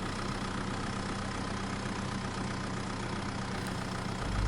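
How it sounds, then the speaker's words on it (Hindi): A cartoon tractor's engine chugs steadily as it rolls slowly forward, a faint, even mechanical drone with nothing else over it. "वो अपना ट्रैक्टर लेके धीरे धीरे आगे बढ़ता रहा।"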